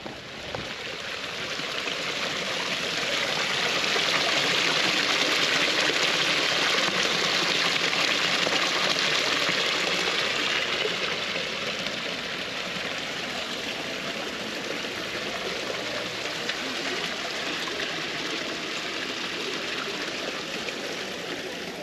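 Steady broadband splashing of a water fountain fills the whole stretch, close and continuous without pause, with no talk over it.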